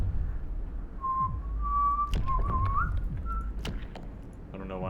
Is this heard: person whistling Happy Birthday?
yes